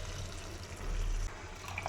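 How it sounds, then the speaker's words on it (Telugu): Water is poured into a pan of bitter gourd curry already cooking with tamarind water, giving a soft, steady splashing and trickling that stays faint and close throughout. "ఇది నీళ్ళు వేసుకున్నాను."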